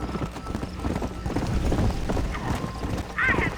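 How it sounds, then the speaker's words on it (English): Horses gallop in a race in the Red Dead Redemption video game, with rapid, continuous hoofbeats thudding close and loud and a brief whinny near the end. "Me encanta la carrerita de caballo de 20 lucas"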